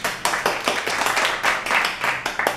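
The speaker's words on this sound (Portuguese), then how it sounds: "Vamos aplaudir ela" A single pair of hands claps nearby in an even, steady rhythm of sharp smacks, with no voices.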